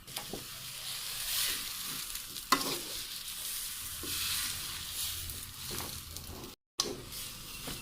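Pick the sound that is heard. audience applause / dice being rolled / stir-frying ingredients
stir-frying ingredients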